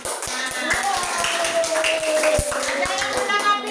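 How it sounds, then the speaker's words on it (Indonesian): A classroom group claps hands together, a quick run of sharp, close claps in rhythm over a minute of cheerful voices and chatter. "Tepuk tangan untuk Ayah. Ayo yang keras."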